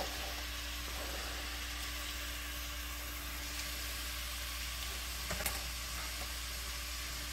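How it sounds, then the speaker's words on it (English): Shrimp sizzling in melted butter in a pan, a steady soft hiss that holds evenly throughout with a faint clink or two near the end, no voices. "So my butter is sizzling. I'm going to go ahead and add the shrimp to the pan."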